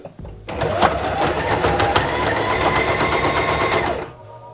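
A sewing machine stitches a tag into a hoodie, running as a fast, loud mechanical rattle of needle strokes for about three and a half seconds before stopping abruptly.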